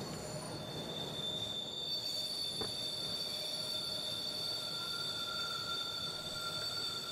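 A ghost train in a Minecraft film rolls steadily with loud continuous wheel squeal and rail rumble, a sustained metallic drone throughout with one brief sharp click; no voices.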